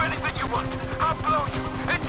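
A damaged, smoking helicopter flying in the video game GTA 5. Its rotor throbs in a fast, steady chop beneath a voice, which talks over it throughout.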